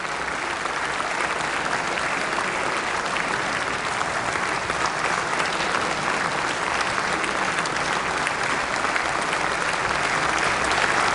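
Sustained, dense standing ovation from lawmakers in the South Korean National Assembly, steady and loud throughout with no pauses, filling the big hall.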